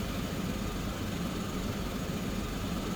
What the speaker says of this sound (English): And we'll just continue to monitor the engine as it spools up.